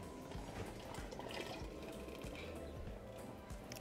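Red chile sauce for pozole is poured into a pot, giving a faint, continuous liquid gurgle and splash with small clinks, quiet and close, without talk.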